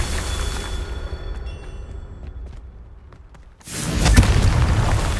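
Confringo blasting spell in Hogwarts Legacy, a faint crackling buildup followed by a loud, sustained roaring explosion that fills the last second and a half.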